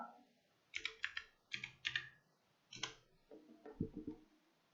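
Keys clatter on a computer keyboard in quick bursts of close, crisp clicks, three clusters of typing separated by short pauses in an otherwise quiet room.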